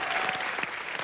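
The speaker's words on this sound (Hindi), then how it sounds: "जोरदार तालियां।" Studio audience applauding on a comedy entertainment show, a short burst of dense, steady clapping heard close and full throughout.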